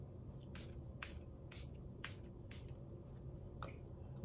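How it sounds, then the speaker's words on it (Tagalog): Charlotte Tilbury Airbrush Flawless Setting Spray misted onto a face, seven short hissing pumps in an even rhythm, close and soft against a quiet room. "Ito yung Charlotte Tilbury Airbrush Flawless Setting Spray. So yes, spray ko lang siya sa aking face."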